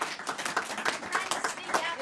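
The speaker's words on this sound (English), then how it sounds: "And let's give Senator Shaheen a big round of applause." Applause at a Senate Democrats press briefing on Medicare and Medicaid cuts, a brief, fairly quiet patter of clapping from a small group lasting about two seconds.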